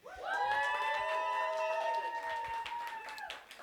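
An audience at a studio music session gives sustained whooping cheers, several voices holding and sliding their calls over faint clapping, moderately loud and fading after a few seconds.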